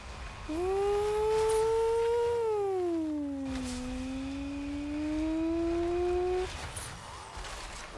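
Engine of a car in the video game Fortnite, a steady droning tone that rises, dips and climbs again in pitch over several seconds, loud and alone before cutting off.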